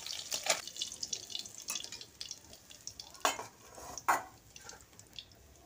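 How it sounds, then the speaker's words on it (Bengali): Small puti fish sizzle and crackle as they fry crisp in hot oil. Utensil scrapes and a few sharper clatters break through the steady spatter, with no voices. "আমি পরেরগুলো এভাবে ভেজে নেব।"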